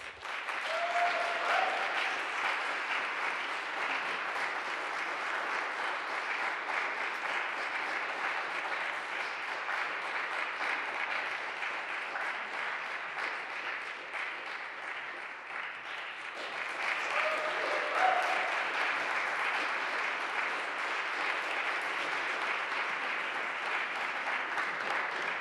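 Sustained audience applause at a Harvard evening event welcomes a singer-songwriter to the stage, a dense, even roar of clapping that lasts throughout, briefly dipping and then swelling again.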